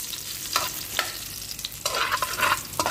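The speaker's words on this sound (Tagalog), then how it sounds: "Ituin muna natin ang bawang" Chopped garlic frying in reused oil in a pan, a steady sizzle broken by repeated scraping stirs, louder and busier toward the end.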